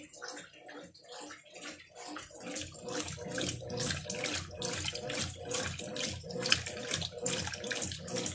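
Water pours steadily into a Cwg 12 washing machine drum, a continuous rushing and splashing that grows louder after the first couple of seconds and keeps a churning texture, with no voices.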